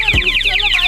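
A Splendor motorcycle's sensor anti-theft alarm blares loudly up close, a rapid warbling electronic siren sweeping up and down continuously.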